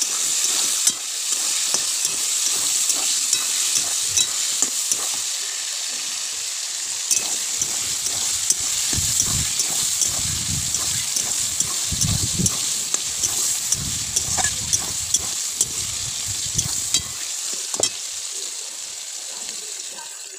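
Chopped onion, one large onion's worth, frying in a pan with a steady hiss and crackle, broken by irregular scraping and clattering stirs, while a voice speaks intermittently over it.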